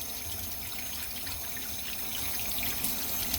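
Tomatoes rinsed under running tap water, a steady close splashing flow that grows slightly louder toward the end.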